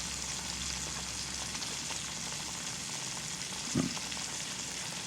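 Bill E's bacon frying in a pan for black-eyed peas, a steady close sizzle throughout with a brief louder crackle near the end.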